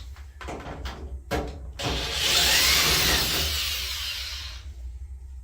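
A power drill drives screws into the panel of an Electrolux or Frigidaire dryer during a belt replacement. A few knocks and clunks lead into one sustained, fairly loud whirring run of about two and a half seconds that then fades off.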